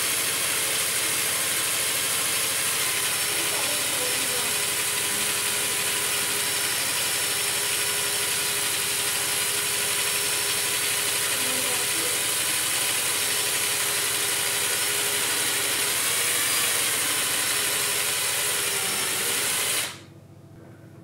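Trip odometer gears of a VW Vanagon spinning, a steady mechanical whir and buzz held for about twenty seconds before cutting off sharply near the end.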